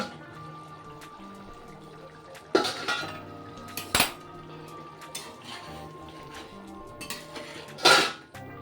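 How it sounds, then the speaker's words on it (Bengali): A metal lid comes off a pot of softened potatoes cooking for an egg curry, with a sharp clatter and clinks of metal cookware at intervals over a quiet kitchen background, no voices. "দেখি ঢাকনাটা খুলে,"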